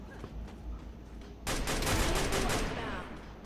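Burst of gunfire in the mobile battle-royale game Free Fire MAX: quiet game ambience, then a sudden, dense, loud volley of rapid shots that goes on for about two seconds before easing slightly.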